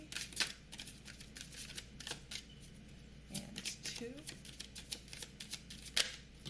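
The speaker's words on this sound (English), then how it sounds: "We are going to give you 3 more shuffles." A tarot card deck being shuffled in quick riffles, brisk papery flutters repeating close by while someone speaks softly over them.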